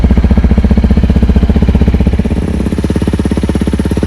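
A stock Honda CRF300L motorcycle engine idles close by with a steady, rapid putter, briefly shifting pitch midway before settling back into its even rhythm.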